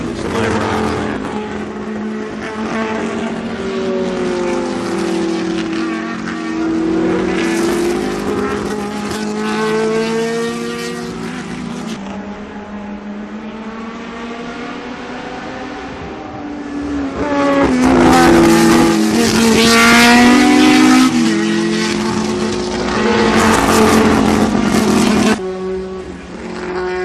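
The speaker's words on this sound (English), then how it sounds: "in this 1971 Chevron B19. Just a pretty car, and just right at home on this Lime Rock track." Vintage race cars, including a 1971 Chevron B19, roar around the Lime Rock track, engines rising and falling through gear changes, with several cars passing close and loud, peaking near the middle and tapering at the end.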